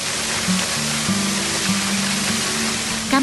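Mbah Gimo waterfall in a West Lampung forest gives off a steady, full rushing roar of falling water, with faint tonal sounds running beneath it.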